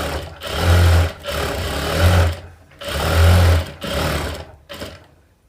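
Sewing machine running in several bursts while it stitches a folded blouse seam, a steady close mechanical whir with short pauses between runs and no talking.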